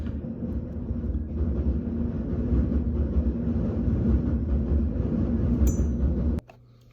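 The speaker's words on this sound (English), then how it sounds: "Sorry, a train was going by." A train passes nearby, a steady loud low rumble with clanking that fills several seconds, then cuts off abruptly near the end.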